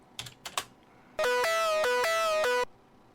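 A few soft key clicks, then a bright, buzzy synth lead plays a short run of held notes, completely dry and stopping abruptly.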